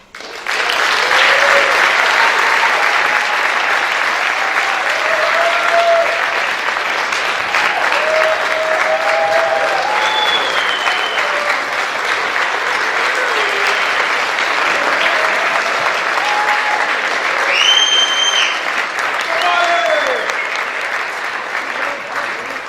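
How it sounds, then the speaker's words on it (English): Sustained standing ovation at a November 2023 signing ceremony, steady loud applause filling the room for over twenty seconds, with faint voices and whoops mixed into the clapping. "Standing ovation is tough to follow."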